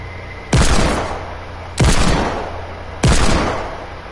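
Gunfire in a video game: three heavy, booming shots about a second and a quarter apart, each loud and close with a long echoing decay, heard alone with no talking.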